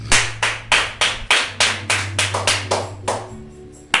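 Church congregation applauding the Lord during a French-language service, with steady rhythmic clapping of many hands, fairly loud and close, over a low sustained organ or keyboard tone.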